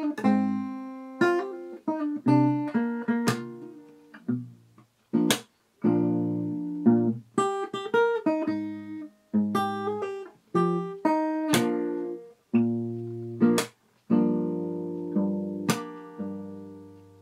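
D: Fingerstyle acoustic guitar plays the chorus of a song, with plucked bass notes, chords and sharp percussive string slaps recurring in a steady rhythm, close and clear with no voice.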